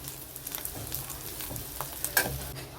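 Dried ribbonfish fries in a pan with garlic and curry leaves, giving a close, continuous sizzle and crackle broken by a few soft stirring scrapes, with no voices.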